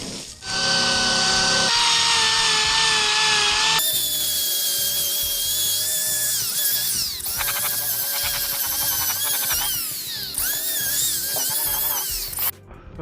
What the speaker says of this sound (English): A slightly more aggressive wire brush with thicker bristles than the other one, and a disc pattern.